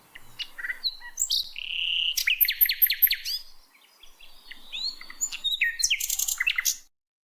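Small birds chirping and tweeting in quick bright bursts, some trills repeating rapidly, with a short quiet gap midway, clear and fairly close against a silent background.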